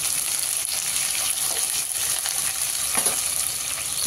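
Curry leaves drop into hot oil already spluttering with mustard seeds and cumin while tempering home-style sambar, giving a steady, close, hissing sizzle with faint crackles that runs unbroken throughout, with no voices.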